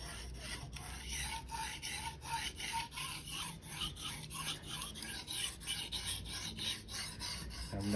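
Shirogami bunka knife bevel worked on a whetstone: rhythmic scraping strokes, about two per second, steady and close, with a rasping gritty texture and no talk.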